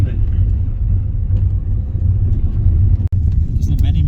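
Car with high suspension driving along a bumpy dirt road near a mine site, steady low rumble and jostling, with people talking over it.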